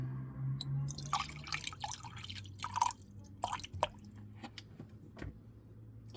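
Distilled water is poured into a container while preparing a tromethamine solution, heard as soft trickles and scattered close drips and splashes, quiet and intermittent.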